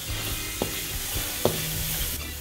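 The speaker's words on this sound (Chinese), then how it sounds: "咁呢度咧爆香咗先" Minced garlic frying in hot oil in a wok gives a steady close sizzle and hiss, with a few light spatula taps and scrapes breaking through. No one speaks.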